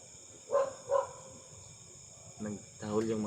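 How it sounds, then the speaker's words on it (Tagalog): Dogs barking outdoors: two sharp barks in quick succession, a pause, then more barks, at moderate distance over a faint insect hum. "Nagtahol yung mga aso mga idol."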